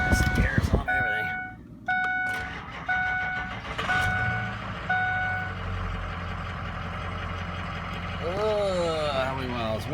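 A 2004 Ford F350 diesel pickup gives a few electronic chime beeps, then its engine cranks, catches and settles into a steady, close, rumbling idle, with a rising whine toward the end.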